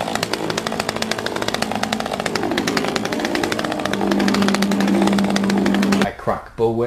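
A chainsaw buzzes loudly and continuously at close range, its engine pitch wavering, then cuts off abruptly near the end.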